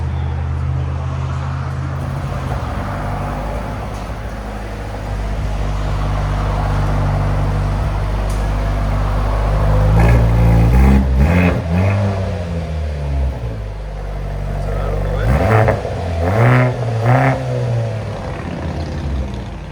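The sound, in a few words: Mercedes C43 AMG hybrid exhaust revving, resonator deleted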